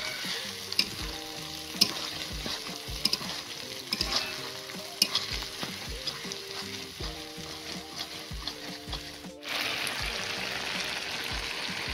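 Masala with tomatoes fries in oil in a pan for a chicken curry, giving a continuous close sizzle broken by regular scraping stirs, with a brief pause before a louder burst of frying.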